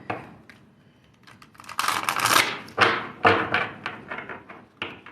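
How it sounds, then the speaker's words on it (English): A deck of playing cards is shuffled in a few quick bursts of crisp riffling and tapping, close to the microphone, with short gaps between them. "Hold on, let me shuffle you again."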